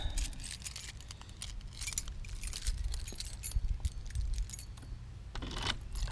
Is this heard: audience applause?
no